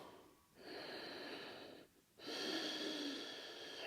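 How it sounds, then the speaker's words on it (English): Breathing during a pelvic floor exercise on a mat: two audible breath cycles, each a soft airy exhale or inhale separated by brief quiet gaps, close and fairly faint with no speech. "Breathing."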